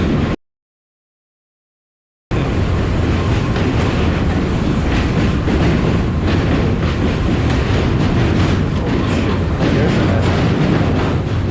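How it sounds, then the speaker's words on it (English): A New York City subway train rumbles and rattles loudly and steadily close by, with rhythmic clacking of wheels, after a brief silent gap at the start. "Are we faster than the New York City subway?"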